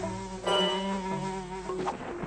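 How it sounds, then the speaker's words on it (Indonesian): Cartoon flies buzz around a zebra, a steady whining drone with wavering pitch running the whole time over a musical score, fairly close and moderately loud. "Lalat-lalat menyebalkan itu menghalangi."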